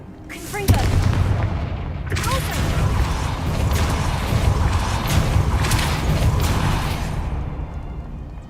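The Confringo explosion spell in Hogwarts Legacy goes off as a sudden loud boom with a whooshing burst, followed by a sustained rumbling, crackling roar that fades out after several seconds.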